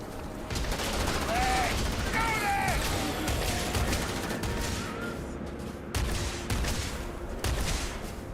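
Gunfire in the Starfield video game rattles steadily through the whole stretch as a dense, continuous barrage, with a short break near the middle before the shots resume. Faint whistling tones rise above it early on.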